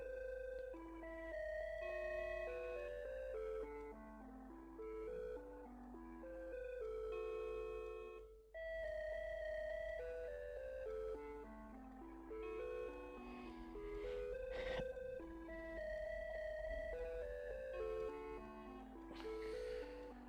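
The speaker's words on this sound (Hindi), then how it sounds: "फोन पे हमारा कॉल म्यूजिक प्ले हो रहा है और इसके अलावा यहां पे रिंगटोन हो रही है।" A tinny electronic melody loops steadily, like phone hold music or a ringtone, playing on its own without any talking.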